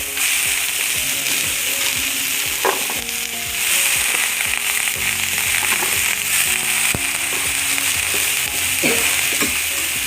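Chopped breadfruit frying in hot oil: a loud, continuous sizzle with crackling pops and the clatter of stirring against the pan, and no voices.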